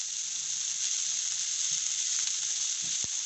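Chicken frying in a pan for a kachori filling gives a steady, dense sizzling hiss throughout, close and even, with faint clinks underneath.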